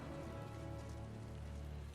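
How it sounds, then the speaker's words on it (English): Steady rain falls in Final Fantasy XIV Endwalker, a soft, even hiss of drops hitting surfaces that continues unbroken and fairly quiet, with no voices. "Oh, now it's raining?"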